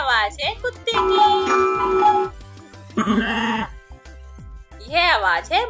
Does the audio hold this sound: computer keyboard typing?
no